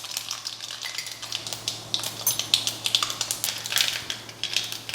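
A teaspoon of mustard seeds splutters in hot oil for tempering Kerala chakka erissery. Dense, irregular crackling pops come close and sharp, alone and steady across the whole stretch.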